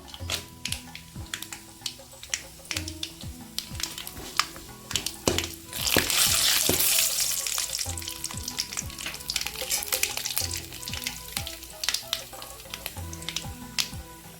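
Cashews frying in hot oil for coriander rice, giving a steady close sizzle with sharp crackles and pops throughout and a louder burst of bubbling midway, with no talking.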